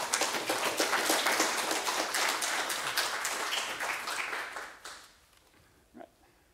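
Audience applause at a morning community event with a university president, a steady round of clapping that fades out near the end, followed by near silence and one faint sound.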